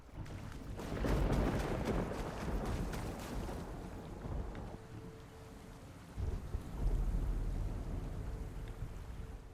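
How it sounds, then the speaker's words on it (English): Thunder rumbles long and heavy in the Horizon Forbidden West video game, swelling twice over steady falling rain, with no voices. "Whatever that thunder sound is doesn't sound good though."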